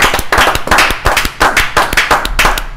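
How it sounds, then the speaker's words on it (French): A French-language Cameroonian TV talk show studio audience claps for the president of the Republic, close, loud irregular hand claps from a small group, punchy and dense over the whole moment. "on applaudit encore pour le président de la République."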